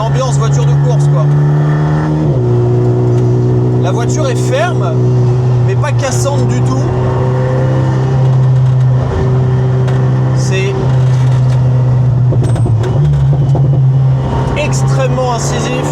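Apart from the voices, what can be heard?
Alpine A110 Schirmer GT exhaust resonating inside the cabin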